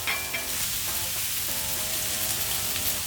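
A ribeye steak sears in a hot pan on a gas stove, filling the air with a loud, continuous close-up sizzle and crackle, unbroken throughout with no voices.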